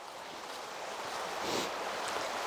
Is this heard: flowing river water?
yes